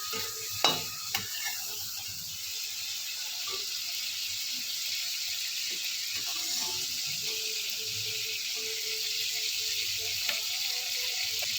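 Potatoes fry in the same oil just used for prawns, a steady close hiss and sizzle throughout, with a few clattering stir knocks near the start.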